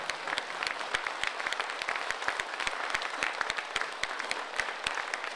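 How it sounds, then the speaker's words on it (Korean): Audience applause for mayoral candidates at a debate: dense, sustained clapping from a sizeable room, with sharp individual claps standing out over a steady crackle. "고견 들려주셨는데 큰 박수 한번."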